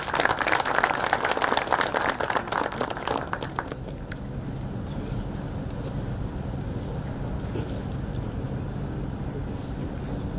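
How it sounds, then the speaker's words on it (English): Audience applause at an IEEE international conference on disruptive technologies, a dense burst of clapping for the chief guest that is loud for the first four seconds, then thins into steady room noise and murmur. "with a big round of applause"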